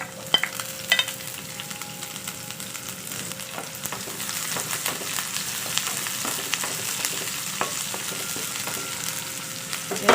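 Garlic and onion sizzle in hot cooking oil in a pan for pork adobo, a steady crackling fry with occasional stirring clicks, close and continuous with no talk.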